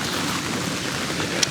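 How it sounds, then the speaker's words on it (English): Steady rain patters down over an outdoor vegetable garden bed where onion sets are being planted, a continuous even hiss with no voices and a faint brief tick near the end. "it's raining a little bit harder now"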